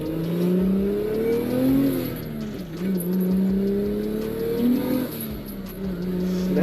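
Engine of a 1JZ-swapped, turbocharged Lexus SC300 revving repeatedly in a played recording, rising and falling steadily and fairly loud with no talk over it.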